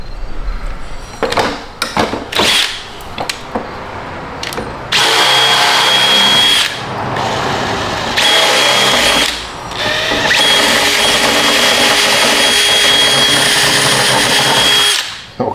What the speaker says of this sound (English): I always just use my drill on super ultra high speed and a sharp bit